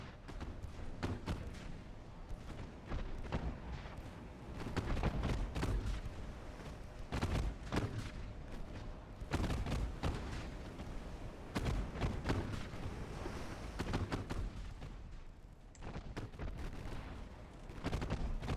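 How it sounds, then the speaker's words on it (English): Naval guns aboard the light cruiser USS Atlanta (CL-51) fire in Ultimate Admiral: Dreadnoughts as a steady run of booming salvos and thuds, fairly quiet overall and without speech. "Alright, we're landing a bunch of hits with our guns now, at least."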